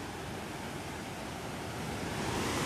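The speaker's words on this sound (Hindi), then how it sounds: "जो पानी मतलब कि गेट से गिर रहा है उसका कलकल छलछल आप लोगों के कानों तक सुनाई जरूर ही पड़ रहा होगा" Water pours through the gates of Tenughat Dam in a steady, broad rushing roar, heard from above, which swells slightly toward the end.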